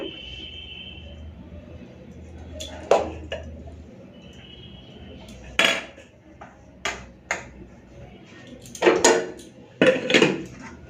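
Hot rice is served onto plates in a home kitchen, with scattered clinks and knocks of dishes and metal utensils, some sharp and close, separated by quiet gaps.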